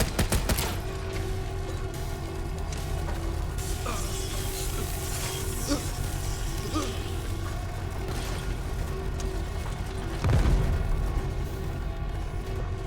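Mortar firing in the survival game Volcanoids, a run of booming shots and crackling impacts over steady machinery hum, with one heavier low thump near the end.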